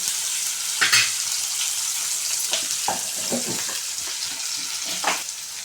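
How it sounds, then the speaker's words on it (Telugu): Cabbage frying in a pan after salt is stirred in gives a steady, close sizzle broken by a few sharp stirring scrapes. "ఇప్పుడు ఒకసారి కలుపుకున్నాము దీన్ని వేగనిద్దామండి"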